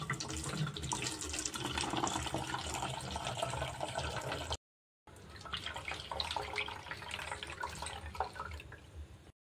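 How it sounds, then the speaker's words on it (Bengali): Homemade vinegar mixed with water is poured into a sterilised bottle, giving a steady, splashy liquid stream that stops briefly and then resumes for several more seconds. "জীবাণুমুক্ত বোতলে আমি ঢেলে রাখছি।"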